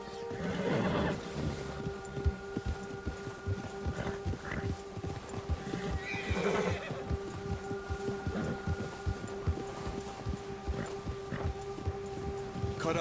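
Horse whinnies and hoof clip-clops from the Red Dead Redemption 2 video game on a wild trail, with a steady rhythmic hoof patter throughout, a couple of neighs near the start and middle, and a constant tonal hum underneath.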